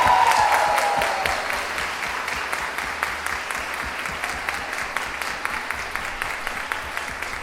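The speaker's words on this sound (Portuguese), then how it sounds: "E eu queria agora uma salva de palmas" A crowd at a law lecture applauds steadily, dense clapping filling the room for several seconds, fairly loud and sustained without any talking over it.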